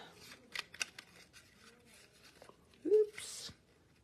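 Scissors cut paper for Valentine cards: a few quick sharp snips, then a longer crisp cut near the end, close and quiet, with soft handling rustle.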